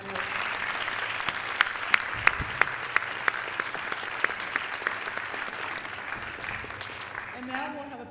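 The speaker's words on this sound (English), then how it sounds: "Can we have another round of applause for all of our graduates?" Audience applause for graduates at a 2010 community celebration and recognition ceremony, a steady wash of clapping from a large crowd lasting several seconds, with a few sharper individual claps standing out before it fades.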